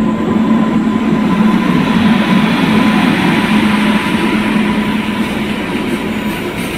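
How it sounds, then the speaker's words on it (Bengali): A freight train rolls past at close range on the railway near Digha, a loud, steady rumble of wagons with a sustained hum that carries throughout without any talk. "আর এখানে একটা মাল গাড়ি যাচ্ছে ওদিকে"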